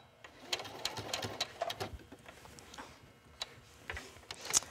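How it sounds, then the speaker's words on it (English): A sewing machine back-stitches a fabric bow onto an apron, giving quick ticking bursts of needle strokes in short runs, moderately faint and close, with no talking. "I'm just going to stitch right over that so it's nice and secure"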